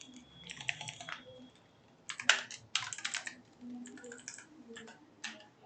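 Typing on a computer keyboard during a live MS Office practical lesson: bursts of quick key clicks with short pauses between, fairly close and clear, with no talk over them.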